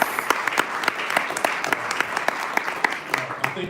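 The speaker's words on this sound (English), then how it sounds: "I do want to ask everybody to give a round of applause" Sustained clapping from a gathered audience at a local board meeting, many hands beating in a busy, uneven patter with occasional louder claps standing out, close and continuous throughout.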